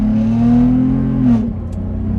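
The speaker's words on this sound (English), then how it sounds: "let's listen to this MagnaFlow Overland Series Exhaust" A 5th Gen Toyota 4Runner with a MagnaFlow Overland Series exhaust revs up loud and close, the engine note climbing and holding for about a second before dropping back to a steady idle.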